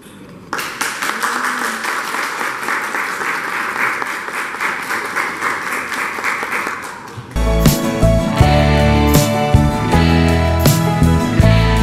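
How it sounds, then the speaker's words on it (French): Wedding congregation applause, a steady crowd clapping for about seven seconds before loud music with a strong beat takes over. "On nous applaudit."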